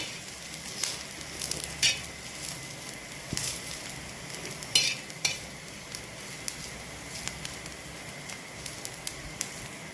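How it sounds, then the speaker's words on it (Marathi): Grated coconut roasting in a pan, a soft, steady sizzle with occasional sharp scrapes and taps of a spatula, faint and close with no talking. "खोबरं पण चांगलं भाजून घ्यायचं आहे आपल्याला"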